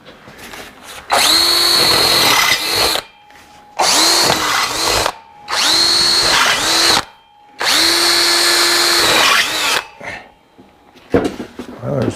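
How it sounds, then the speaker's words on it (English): Power drill enlarging bolt holes in a steel grinder pedestal: loud, close bursts of whining, grinding drilling, several runs of a few seconds each, separated by short pauses. "Go ahead and get that W drill and work through them real quick."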